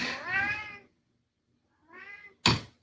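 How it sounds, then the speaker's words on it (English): Two cat meows at close range, a long harmonic call followed after a pause by a shorter one, then a sharp knock or thump; no talking. "So if you can hear a cat meowing"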